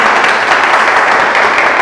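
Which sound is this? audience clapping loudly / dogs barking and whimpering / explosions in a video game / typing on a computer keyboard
audience clapping loudly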